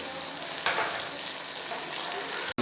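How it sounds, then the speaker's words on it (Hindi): Tomatoes sizzling and frying steadily in a pan as they cook down into a curry gravy, a continuous bright hiss with a faint stir partway through and a brief dropout near the end. "अब टमाटरों को तकरीबन हम 7 से 8 मिनट तक पकाएंगे ताकि इसका जो टेस्ट है बिल्कुल जो डेवलप हो जाए"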